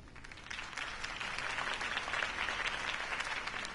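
Steady crowd applause in Batman: The Telltale Series, dense and sustained throughout, with many hands clapping at once and no voices standing out.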